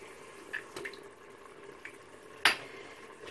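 Egg being stirred into broth in a pot while making small chicken pastillas, with soft scraping and light clinks of the utensil against the pot, one sharper knock standing out, fairly quiet.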